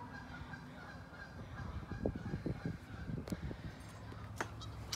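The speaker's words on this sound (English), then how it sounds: "Sorry about the geese." Geese honk repeatedly at a moderate distance outdoors in Alabama, a cluster of loose calls rising above a steady background rumble.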